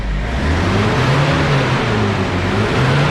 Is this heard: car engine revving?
yes